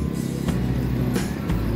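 Cars pass along a road lane beside a coastal promenade on Kos island at night, a close steady engine rumble with a couple of swelling pass-bys, no talking.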